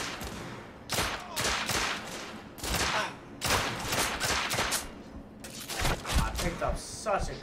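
A gun fires in The Order: 1886, rapid volleys of loud shots in several bursts separated by short gaps, close and harsh, with some voice mixed in.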